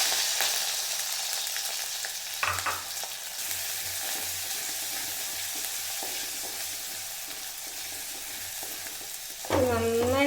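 Chopped ginger, garlic, shallots and green chilies sauté in hot oil for a fish curry, a soft steady sizzle with a few louder stirring scrapes near the start and end.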